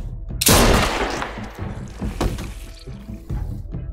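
A gunshot in The Walking Dead: A New Frontier video game rings out as one sharp, loud blast, followed by a decaying tail and scattered game sounds.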